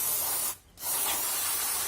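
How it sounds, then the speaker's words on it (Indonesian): Contact cleaner sprayed from an aerosol can onto a dirty motor coil, a steady close hiss that breaks off briefly partway through and then resumes, with no talk. "untuk semprot dinamo pun biasanya pakai contact cleaner ya"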